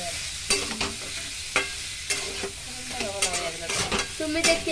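Boiled bitter gourd mixed with a peanut and garlic paste is stirred in a pan. A spoon scrapes and clacks in irregular bursts over a soft, steady sizzle, close and fairly quiet.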